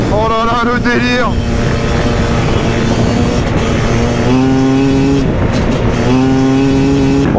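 Motorcycle engine racing across the sand at the Le Touquet beach race, loud and close, revving and shifting through rising harmonic sweeps over a steady drone, with other engines around it.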